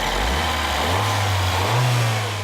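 The 1.6-litre four-cylinder engine of a 2014 Mini Paceman revs steadily and loudly close by, with its pitch climbing and holding over a couple of seconds and no voices.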